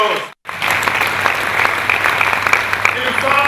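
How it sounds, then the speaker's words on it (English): Audience at a book reading and presentation bursts into sustained applause after a brief pause, dense clapping from many hands filling the room, loud and steady to the end. "Please, let's give him a round of applause."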